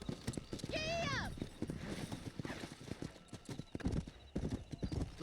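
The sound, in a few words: horse galloping in video game Red Dead Redemption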